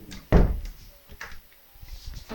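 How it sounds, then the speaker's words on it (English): A door is pushed shut indoors with one sharp, close thud, followed by quieter knocks and light handling sounds. "Let me just shut the door."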